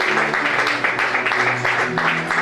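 A church congregation bursts into sustained applause praising the Lord, a dense, loud, continuous clapping that fills the room from start to finish, with faint voices underneath.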